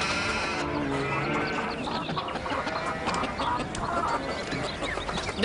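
Chickens cluck in a busy outdoor scene of an Arabic drama, the steady clucking mixed with other noise at a moderate level, no clear talk.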